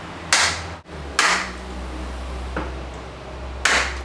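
Three sharp, loud snips of side cutters clipping leftover nails in a door jamb, spaced apart over a low steady hum, with a faint tick between them.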